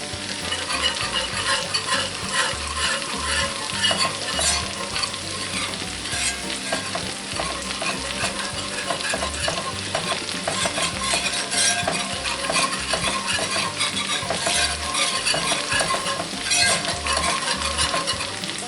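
Flour being stirred into melted fat in a cast iron pan for buttermilk sausage gravy, a continuous sizzle under repeated scraping and stirring strokes throughout, no voices.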